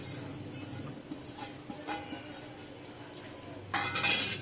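Carrot and other vegetables such as capsicum and cabbage go into a cooking pot, with light clinks and knocks of utensils against metal, close and moderate, ending in a louder clattering burst.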